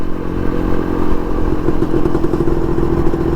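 A motorcycle cruising along a highway on a long solo ride, its engine a steady, loud drone with a low rumble, rattles and wind noise throughout, and no talk.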